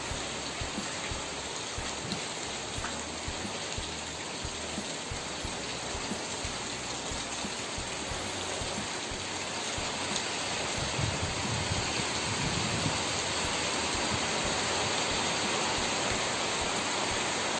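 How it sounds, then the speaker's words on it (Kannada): Heavy monsoon rain pours down steadily in a village setting, a dense, continuous hiss that swells slightly louder toward the end, with no voices over it. "ನಮ್ಮೂರಲ್ಲಿ ಜೋರು ಮಳೆ ಬರ್ತಾ ಇದೆ."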